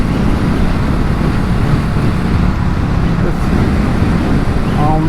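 A 2022 BSA Gold Star motorcycle being ridden on a winding road, its steady engine drone mixed with heavy wind rush, loud and continuous throughout.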